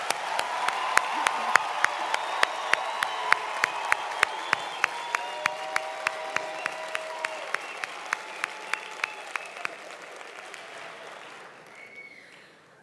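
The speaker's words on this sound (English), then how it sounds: "Let's give them another round of applause" Graduates of Varsity College Pretoria's Class of 2016 receive a long, steady round of applause from a ceremony audience, with crisp individual claps standing out. It carries on for about ten seconds, then quickly thins out and fades.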